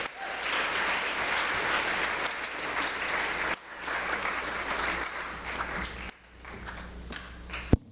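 A school morning-meeting audience applauds to welcome author Kathryn Aalto, with steady dense clapping that fills the room, dips briefly, then resumes and tapers off.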